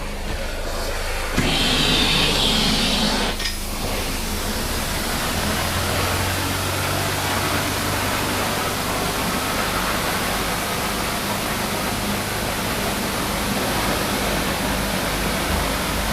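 A Hydro-Force CX-15 residential carpet cleaning machine runs with a loud, steady broadband whoosh of suction and spray, holding constant for the whole stretch with a brief louder surge near the start.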